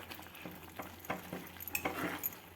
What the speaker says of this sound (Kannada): ಈಗ ಗ್ಯಾಸ್ ಫ್ಲೇಮ್ನ ಜಾಸ್ತಿ ಮಾಡಿಕೊಂಡು ಜೋರು ಇಟ್ಕೊಂಡು ಚೆನ್ನಾಗಿ ಫ್ರೈ ಮಾಡ್ಕೊಳ್ಳಿ